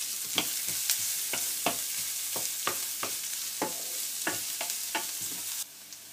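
Very finely chopped shallot frying in a pan while cooking cod steak, a bright steady sizzle broken by a regular series of sharp stirring scrapes, close and clear with no talk.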